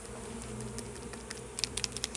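Bees hum steadily around a newly installed first beehive in a back-garden apiary, a close, continuous drone with a few brief higher buzzes as insects pass near.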